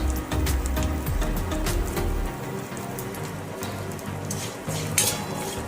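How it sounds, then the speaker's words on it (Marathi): Salt, turmeric and spices frying in hot oil in a pan for poha chivda, a steady loud crackling sizzle with a low stirring rumble early on and no talk. "सगळं साहित्य छान असं तेलामध्ये तळलेलं आहे"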